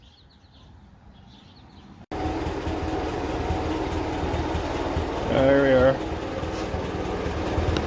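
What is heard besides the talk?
1956 Massey Ferguson TO35 tractor engine running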